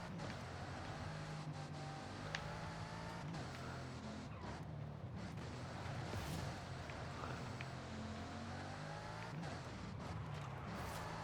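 A race car in Forza Motorsport drives hard with a steady, loud engine drone, shifting whines and occasional tire squeal running continuously throughout, with no talking.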